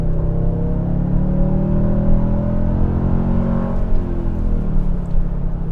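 A 2022 Toyota Tundra pickup's engine revs hard and close, a loud continuous drone that climbs and falls in pitch as it accelerates, with no one talking over it.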